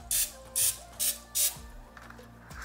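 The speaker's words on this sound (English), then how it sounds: "So I'm gonna spray my mold with a little bit of nonstick spray." Four short, crisp bursts of nonstick cooking spray hiss into a silicone mold at an even rhythm, close and fairly quiet, followed by faint handling noise.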